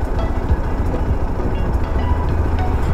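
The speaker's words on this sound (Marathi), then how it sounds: "मस्त खालून ट्रॅक जातोय आणि ट्रेन जाते" A train runs along the track below a hillside road in the misty Kasara ghat during the monsoon, heard as a steady, dense rumble with faint rhythmic clatter, distant and continuous with no voices.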